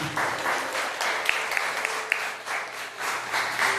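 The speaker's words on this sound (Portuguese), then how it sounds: "As palmas são para Jesus." Church congregation applauding after a pastor's sermon reading, a steady wash of clapping with a few sharp individual claps standing out, fairly close and sustained throughout.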